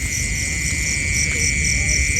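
Crickets chirp in a steady, loud, continuous high drone outdoors near a lake in Baras, Rizal, over low background rumble.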